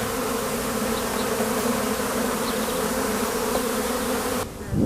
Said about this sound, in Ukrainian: Ось бджола літає